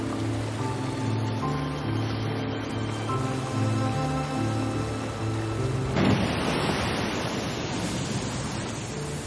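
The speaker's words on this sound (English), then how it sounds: "Something so relaxing about the sounds of nature. Waterfalls, birds singing." Steady rushing water from a waterfall in the nature scenery of the Spirit of the North video game, a continuous broadband wash under soft tonal game music that swells louder partway through.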